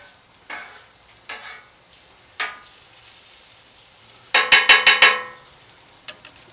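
Toast and breakfast food on a Royal Gourmet 36-inch flat top grill, with scattered clanks of a spatula and a quick run of five loud metallic scrapes and taps, close, over a faint sizzle.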